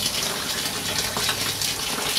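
Water gushes and splashes steadily as a yeast starter flask is set into a homebrewing water bath, a continuous running-water rush without speech.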